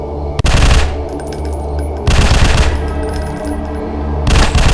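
A gun fires rapidly in a zombie video game, loud sustained automatic bursts in three long volleys separated by brief pauses.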